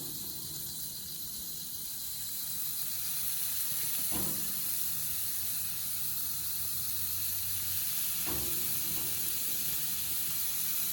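Shrimp and bacon kebabs wrapped with pineapple sizzle steadily on a hot cooking surface, a constant close hiss with a couple of sharp knocks as skewers are set down; a voice speaks briefly.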